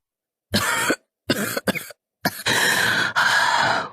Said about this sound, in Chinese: 老王妃轻轻地咳嗽一声